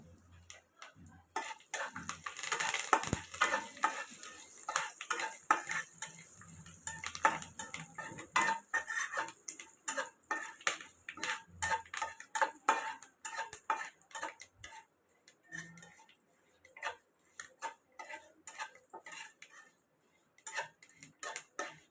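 Curry leaves and urad dal sizzle in hot oil over a low flame for a South Indian raw mango pickle: dense, irregular crackles and pops, steady and close throughout, with no talking.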